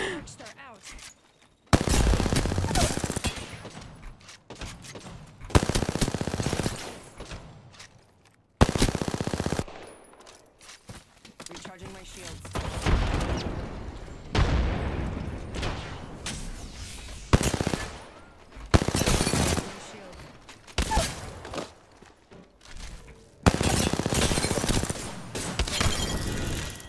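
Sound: gunfire in a shooter video game

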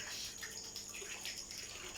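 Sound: small waterfall flowing into a concrete crayfish pond

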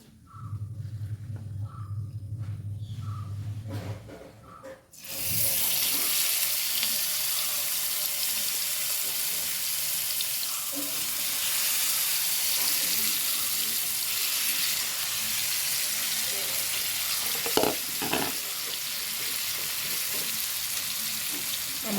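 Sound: prawns frying in hot oil in a pan

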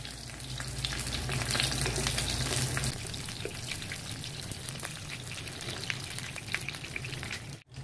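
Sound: roasting onion with a piece of tamarind in a pan

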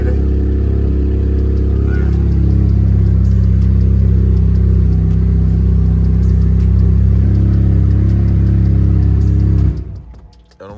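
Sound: car engine revving

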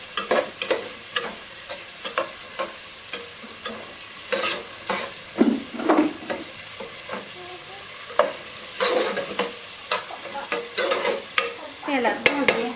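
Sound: frying spices in oil

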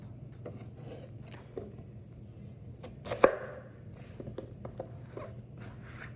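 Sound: knife chopping zucchini into pieces

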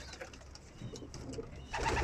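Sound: pigeons cooing

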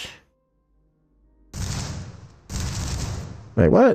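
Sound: gunfire in the video game Starfield

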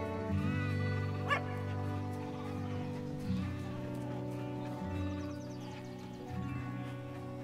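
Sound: sheep bleating in a sheep-herding puzzle video game

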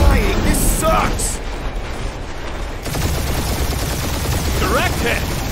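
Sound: gunfire during a dogfight in Guardians of the Galaxy video game

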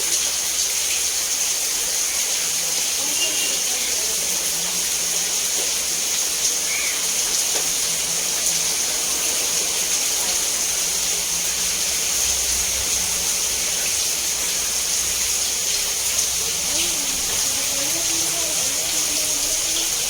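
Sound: floodwater flowing into a house

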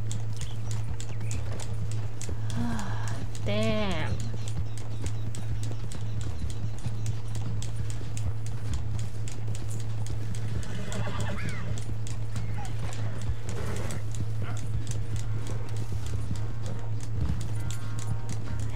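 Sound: horse hooves galloping, from a video game

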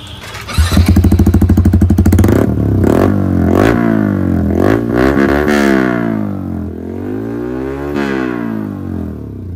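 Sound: Yamaha R15 motorcycle with Austin Racing exhaust revving

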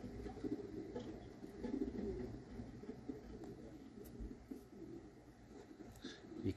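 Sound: homing pigeons cooing in a small loft

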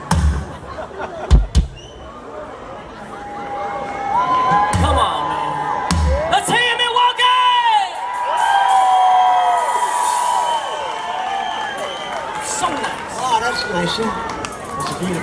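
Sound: concert crowd cheering and whooping

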